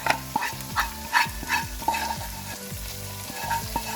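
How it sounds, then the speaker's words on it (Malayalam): Ground masala paste goes into a pan of frying chicken curry gravy, making a loud, close sizzle broken by rhythmic stirring scrapes and bursts of spattering, with no talking. "ഈ അരപ്പിനെ നമുക്ക് ഇങ്ങോട്ടേക്ക് ഇട്ട് കൊടുക്കാം."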